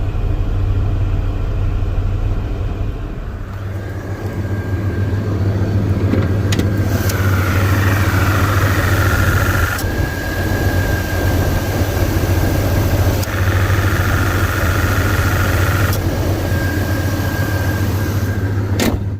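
A 1989 Chevy S10 pickup engine idles steadily just after starting, a constant low rumble throughout with a faint whine of an AC pump cycling on and off above it.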